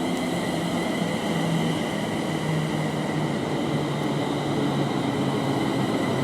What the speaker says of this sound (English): we have a Class 350 bound for Crewe. Uh, 350-108 in the anti-trespass livery is leading